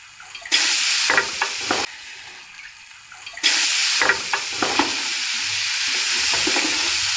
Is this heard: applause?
no